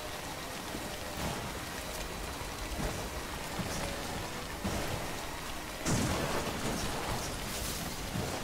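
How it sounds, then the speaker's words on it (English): Steady rain with rumbling thunder in Death Stranding, a dense hiss of downpour throughout with a louder swell of storm near the end, no voices. "It's always raining in the valley."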